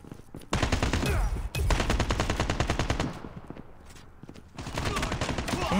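Rapid automatic gunfire from the Call of Duty Mobile shooter game, loud sustained bursts with a brief gap, a quieter lull, then another burst of shots.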